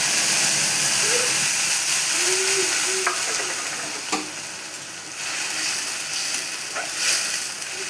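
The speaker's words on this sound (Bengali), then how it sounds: "মশলাটা আমি তেলের মধ্যে দিয়ে দিলাম।" A spice paste of green chilli, ginger, cumin and tomato hits hot oil and sizzles steadily, a close, loud frying hiss with occasional stirring clinks, no voices.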